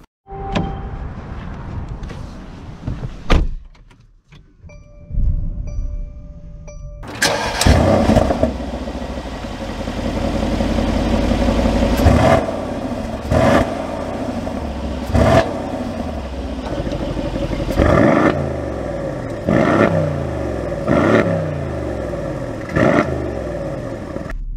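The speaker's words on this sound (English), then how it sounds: "let's go see how it drives and feel that 4-liter V8" A Mercedes-AMG GLC 63 S 4-liter V8 cranks and fires, settles into a rumbling idle, then revs sharply several times, each blip rising and falling, loud and close.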